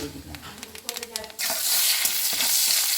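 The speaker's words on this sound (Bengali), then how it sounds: "ঘিয়ের মধ্যে আমি একটু কালো জিরে আর একটু হিং দিয়ে দেবো" Nigella seeds and asafoetida hit hot ghee for a green pea kachori filling, setting off a loud, steady sizzle after a moment of light clattering, with no talk.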